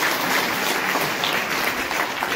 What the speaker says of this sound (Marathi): जोरदार टाळ्या वाजवत